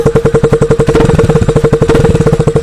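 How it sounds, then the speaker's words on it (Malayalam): Motorcycle exhaust with a Red Bull can set beside the silencer, a loud close-up engine putting out rapid, even pulsing exhaust beats that rattle steadily for the whole stretch without any talking. "ബൈക്കിന്റെ സൈലൻസറിന്റെ അടുത്ത് ഇതേപോലെ ക്യാൻ വെച്ച് കഴിഞ്ഞാൽ വണ്ടിയുടെ സൗണ്ട് നമുക്ക് മാറ്റാൻ പറ്റുന്നു"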